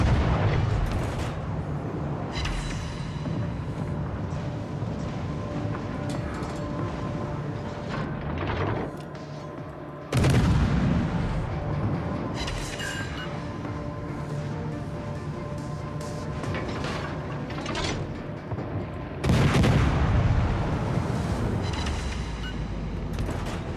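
Heavy warship guns boom in a naval battle in World of Warships Legends, with three loud, deep salvos roughly ten seconds apart and a rumbling battle din between them.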